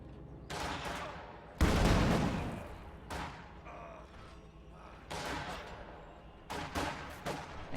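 Bursts of gunfire and explosions from a WWII strategy video game, sharp volleys and rattling automatic fire in irregular clusters, one heavy blast standing out, with quiet gaps between.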